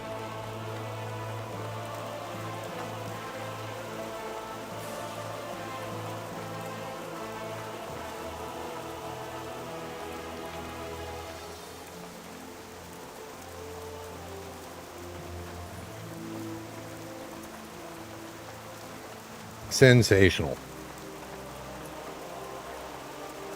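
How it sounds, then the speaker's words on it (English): Steady in-game rain falling in World of Warcraft, a continuous soft hiss with low rumbling undertones, broken near the end by a brief louder burst of sound. "I love the rain and the sound of rain in video games."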